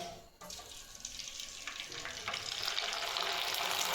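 Dried wheat kurdai frying in hot oil, heard as a close, bright sizzling hiss that starts softly and swells steadily louder as the frying takes hold.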